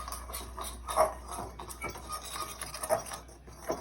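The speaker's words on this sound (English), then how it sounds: "And then we're just gonna give it all a quick whisk together." Flour, salt and pepper whisked together in a bowl: soft, quick scraping and tapping strokes at close range, fairly quiet, with no talk.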